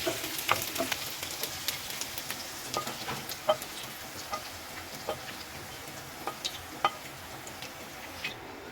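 Ingredients for Hyderabadi sheer khurma roast in a pan with a soft, even sizzle, punctuated by light ticking clicks of stirring at a steady rhythm, close by and without speech.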